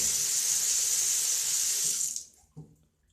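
A kitchen faucet runs under strong water pressure, a loud close rushing stream that is shut off after two seconds, followed by a few drips and a small knock.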